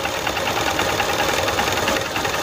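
A motorcycle engine runs close by during a magnet coil check, giving a steady, busy mechanical chatter with rapid knocking pulses and no clear pause.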